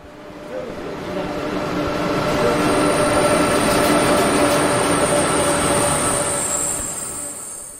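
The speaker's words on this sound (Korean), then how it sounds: "그래서 제가 지금 목포역에 왔습니다." Trains at Mokpo railway station in South Korea, with a steady rumble of rolling railcars and a high, sustained wheel squeal building and holding throughout, fairly close and loud, with no talk.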